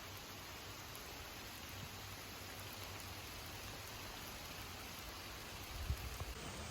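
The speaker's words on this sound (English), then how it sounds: "Not just the sunrise, but it's raining." Steady, soft rain falling continuously, a gentle even hiss with a faint low hum underneath and a small knock near the end.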